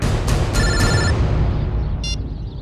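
A telephone rings loudly in a few short electronic bursts, with a quieter trill near the end over a steady background hum.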